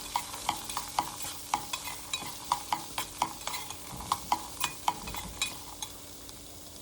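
Raw peanuts are stirred in a pan, a spoon scraping and clattering in a steady rhythm of sharp, close strokes over a faint sizzle.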